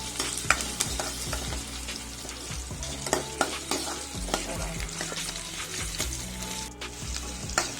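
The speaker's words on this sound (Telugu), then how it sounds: "బాగా అల్లం వేపాలి." Ginger pieces fry in a pan for a spicy ginger chutney, crackling and sputtering with scattered pops and spoon-on-pan scraping, close up and moderately loud, no voices.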